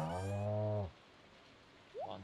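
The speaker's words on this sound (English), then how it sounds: "I don't know why there is 6 cows." A cartoonish cow in the farming game Stardew Valley lets out a single loud, low moo lasting about a second, followed by near silence and a short rising chirpy game sound.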